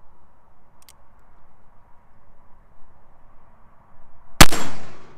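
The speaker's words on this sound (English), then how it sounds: "I think I heard a cap go off" Percussion cap on a Colt Navy black-powder revolver firing as a single sharp, loud crack near the end, ringing out briefly over quiet background, with a faint tick earlier.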